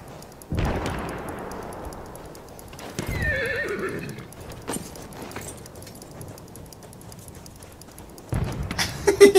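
A horse in the video game Battlefield 1 whinnies sharply and hooves clatter in quick bursts, with a loud pop near the start and a rising flurry of thuds at the end.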